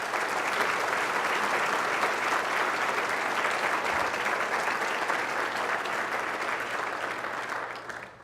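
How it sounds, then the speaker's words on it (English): Sustained applause from an audience at a city's State of the City address, dense and even clapping from a large crowd that holds steady before tapering off at the end. "Let's give her a round of applause"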